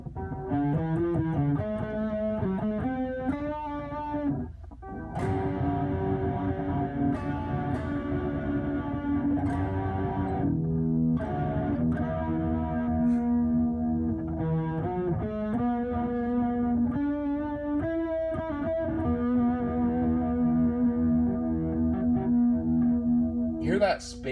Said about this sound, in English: That spacey echo, it's almost like a space echo reverb.